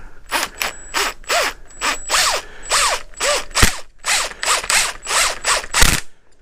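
A ratchet wrench turning a 19 mm fitting on the front fork of a 1987 Kawasaki ZG1000, a loud close series of rapid clicking pawl strokes in an even back-and-forth rhythm.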